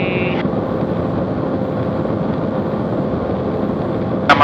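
Zenith CH 750 Cruzer light aircraft with a 64-inch Sensenich propeller at 2600 RPM economy cruise, a steady loud cabin drone of engine and propeller that holds even throughout, with brief high-pitched tones near the start and end.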